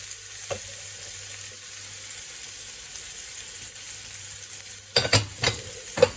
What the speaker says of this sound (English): at this stage, I'm going to add a knob of butter